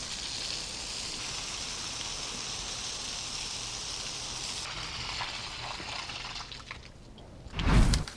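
Water rushes steadily through a residential water heater during maintenance, flushing out sand, minerals, dirt and calcium sediment, a constant hissing flow that thins near the end before a short, louder splashing burst.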